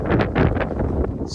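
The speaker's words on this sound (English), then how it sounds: "Super windy." Strong wind buffets the microphone atop a bald mountain summit, a loud, continuous rumbling roar with gusty swells and no talk.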